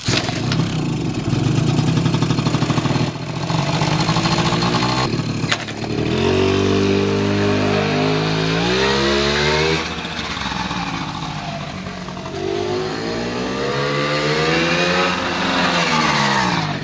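Small Honda motorcycle with a 49cc two-stroke engine, droning steadily and loudly, its pitch rising and falling as it revs up and settles, with buzzy harmonics throughout.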